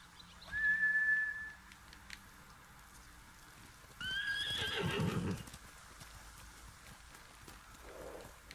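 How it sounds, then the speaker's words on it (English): Horses in the video game Ghost of Tsushima whinny twice, a high shrill neigh followed by a longer call with snorting, over faint hoof clip-clop and quiet outdoor ambience. "Bastards scared off the horses."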